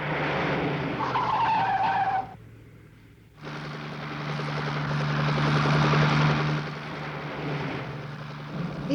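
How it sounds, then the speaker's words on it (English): A helicopter in a 1967 Captain Scarlet puppet TV episode whirs loudly, the rotor and engine noise breaking off briefly, then returning stronger with a steady droning hum and no talk. "It's a helicopter."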